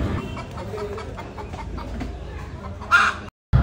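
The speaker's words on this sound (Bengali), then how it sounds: "এখানে 5টা মুরগি একসাথে কি সুন্দর যুক্তি পরামর্শ করতেছে। ওদের সাউন্ডটা একটু রাখলাম" Five chickens clucking together in a household yard, a close, continuous chatter of soft clucks with one louder squawk near the end, and no talk over them.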